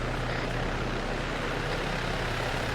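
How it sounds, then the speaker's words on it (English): A steady, loud, broadband rotor and engine roar from a helicopter in the military video game ARMA 3, constant throughout with no breaks and no talk over it. "Look at the helicopter"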